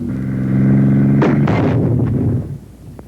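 An infantry anti-tank weapon fires at a tank: a loud sharp blast cuts through a steady engine drone, followed by a rumbling burst and fading echoes.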